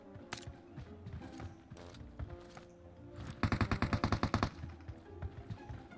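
Automatic gunfire rattles in PUBG Mobile: a rapid burst of about a dozen evenly spaced sharp shots stands out midway, with scattered single shots and game noise around it, fairly distant and faint overall.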